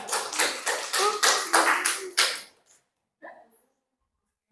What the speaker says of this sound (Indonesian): beri aplaus temannya ya